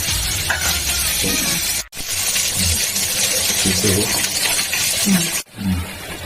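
Duck egg frying in hot oil in a wok gives a loud, continuous sizzle with stirring scrapes, broken by two brief drops, while a voice talks faintly underneath.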